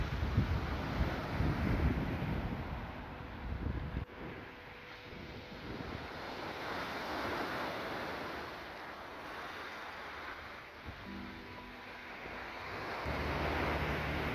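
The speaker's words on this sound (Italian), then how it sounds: "mare completamente gonfio, sporco, bello carico" Rough, swollen stormy sea on the Genoa coast near Santa Margherita Ligure, with a steady roar of surf and wash of waves mixed with wind buffeting the microphone, no voices.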